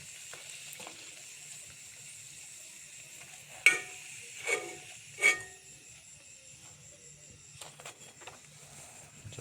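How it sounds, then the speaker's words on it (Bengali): Parathas frying in hot oil give a steady soft sizzle throughout, with a few louder crackling bursts and spatters midway, and no talking. "দেখুন এখানে ভাজতেছে আর রাখতেছে"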